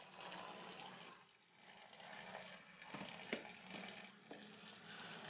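Boiling water poured from a kettle over sliced cheese for Megrelian gebzhalia, a steady hiss and splash of liquid lasting throughout, close and moderately loud, with a few sharp clinks near the end.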